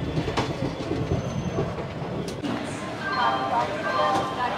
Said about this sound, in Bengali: 7 নম্বর প্ল্যাটফর্মে আমাদের ট্রেন এসে ঢুকেছে।